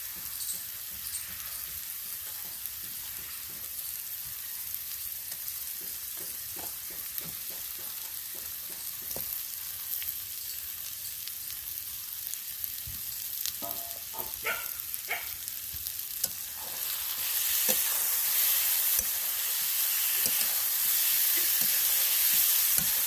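Snakehead fish pieces fry in cooked-down spice masala, a continuous sizzle broken by soft stirring clicks and scrapes that swell louder toward the end.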